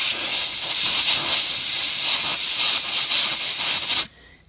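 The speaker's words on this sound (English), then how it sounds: "or I use compressed air." Compressed air blasts around the transmission drain plug of a Ford 6F35 six-speed automatic, a loud steady hiss lasting about four seconds before cutting off abruptly, with no talking.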